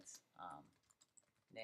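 Typing on a computer keyboard, a short run of light clicks and taps at close range, with brief louder bursts of other sound at the start and end.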